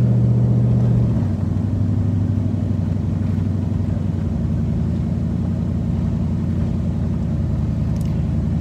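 A Nissan Titan truck engine idling after repair, a loud steady low rumble close by with a slight shift in pitch early on, then an even drone to the end.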